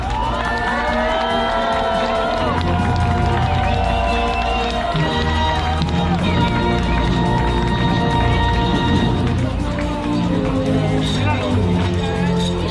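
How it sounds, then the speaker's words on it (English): A large crowd at a triathlon in South Africa cheers and shouts loudly and continuously, with whistles and excited voices, while an announcer's amplified voice carries over the noise, introducing the women's champion. "Make some noise for Laura Philipp"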